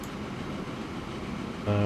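A Transport Fever train rumbles along with a steady low rolling drone and faint rail clatter, and a louder tonal horn-like hum swells in right at the end.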